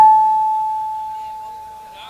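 A single sustained whistle tone sounds at an Urdu mushaira poetry gathering, loud at the start and then fading slowly over about two seconds, with almost nothing else around it.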